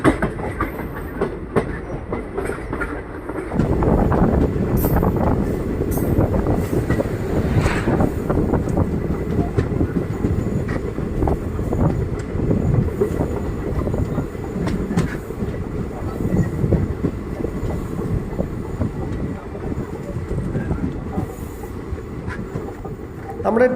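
A passenger train on the Punalur to Nagercoil line rolls steadily toward Parassala station in Thiruvananthapuram district, heard from inside with continuous rumble, rhythmic wheel clatter and occasional squeals; no one talks.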